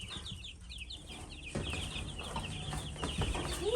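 Backyard chickens clucking close by, with a run of short, repeated, high, chirpy calls early on, then softer low clucks and scuffling over a light background hum.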